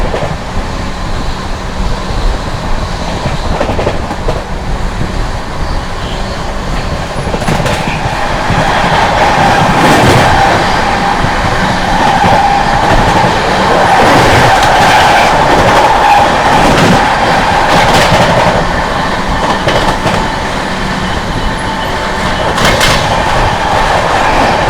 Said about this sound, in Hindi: 130 की रफ्तार में भाग रही है अपनी शालदा राजधानी एक्सप्रेस